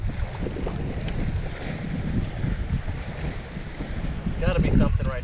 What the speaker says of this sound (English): It's pretty windy, as you can see.